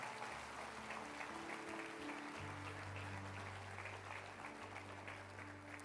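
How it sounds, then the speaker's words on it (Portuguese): Applause from a large church congregation, dense and even, with sustained low musical tones from an instrument playing underneath. "Se é para Jesus, dê uma salva de palmas"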